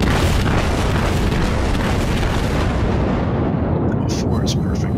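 A Wyoming battleship in the World of Warships video game fires armour-piercing shells, a loud, continuous roaring boom that fills the whole clip and fades slightly toward the end.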